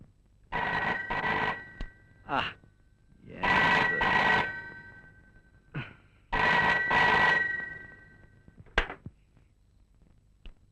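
An old telephone rings in a Malayalam comedy film scene, sounding in several separate bursts of bright ringing with short gaps between them, heard fairly close and clear without talk over it.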